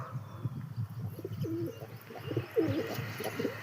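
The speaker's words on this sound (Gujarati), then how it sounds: "જો મિત્રો કેવા જોરદાર કબૂતર છે એક નંબરના." Several pigeons coo softly and repeatedly close by, low throaty calls overlapping in a steady murmur with faint background hiss.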